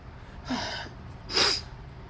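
Two short, breathy bursts, the second sharper and louder, like a held-back sneeze, close by in a quiet room.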